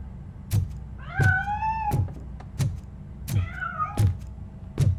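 A cat meows in the video game Robocop: Rogue City, giving two drawn-out, rising-and-falling cries over a steady low background hum, with sharp clicks and thumps recurring throughout.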